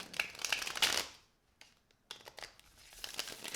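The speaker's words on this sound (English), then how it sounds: "Look at the Fool in the Tower popping out while we're shuffling." A cat-themed Yin Tarot deck being shuffled by hand, with quick papery riffles and slides in two close bursts separated by a short pause.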